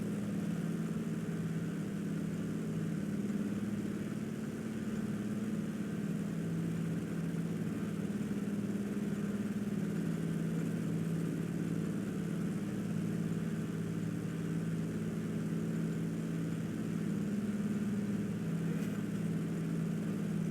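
Light aircraft engine droning steadily as it is set up for landing, a constant low hum held at even volume throughout with no talking.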